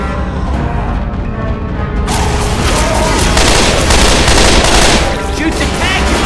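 Rapid, loud magnum gunfire aimed at the Tank in Left 4 Dead 2, a dense burst of shots with booming impacts over several seconds, with brief shouting over the racket.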